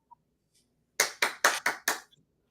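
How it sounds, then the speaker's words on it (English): Five sharp hand claps in quick succession, close and loud, with near silence before and after. "I have to give you a clap of applause for that"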